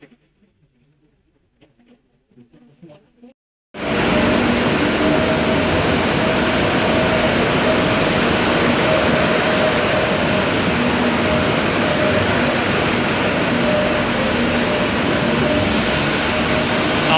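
A metro train runs through a station platform on the Noapara line: near-silence first, then a sudden loud, steady rumbling roar with a high whine that holds constant to the end.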